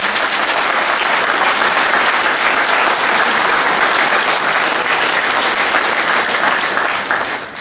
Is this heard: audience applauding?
yes